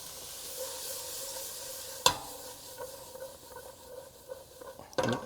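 Onions and peppers cooking in a pan for a breakfast burrito, a faint steady sizzle with a couple of sharp scraping stirs, one near the middle and one toward the end.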